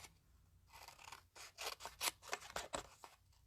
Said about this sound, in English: with my snips, I am just going to cut around.